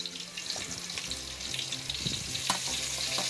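Broiler chicken fries in oil in a home kitchen, a steady close sizzle with faint crackles and a brief sharp pop near the end.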